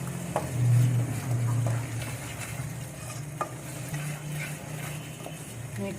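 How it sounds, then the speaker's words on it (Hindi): Ground keema sizzles in a pan while coriander, turmeric and salt are stirred in, the steady close frying hiss broken by scraping spoon strokes and a few soft knocks. "और ये धनिया, और ये हल्दी, नमक मिक्स कर देंगे इसको।"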